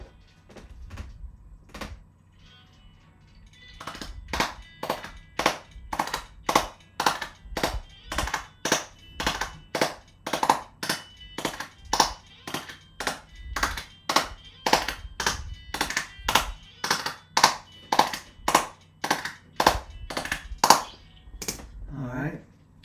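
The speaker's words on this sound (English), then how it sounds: "I'm going to go ahead and lay another clap on that, so I can get a big vibey energy going on" Layered clap samples in a music beat being built live, sharp claps hitting in a steady, evenly spaced rhythm over a low bed, with a soft voice heard faintly at times.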